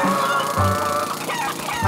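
Cartoon chickens cluck in short repeated bursts, loud and close, a few quick fowl calls in a row.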